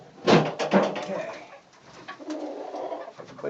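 Pigeons or doves coo in a barn in cold January weather, several soft throaty calls close by, with a faint voice in the background.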